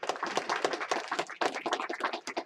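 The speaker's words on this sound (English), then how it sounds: "Give both Paula and him a round of applause." A small group at a business bootcamp meeting gives a round of applause, brisk uneven clapping from a modest number of hands, close and fairly loud, with no speech over it.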